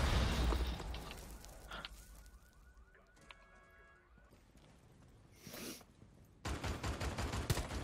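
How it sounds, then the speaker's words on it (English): A grenade blows up in a multiplayer shooter with a loud, sudden blast and rumbling aftermath near the end, following scattered gunfire and quieter game noises while a player talks. "Watch out for my grenade."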